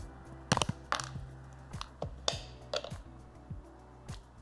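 Crisp snaps of tempered 75% raw dark chocolate being broken, several short sharp cracks at irregular intervals over a quiet background.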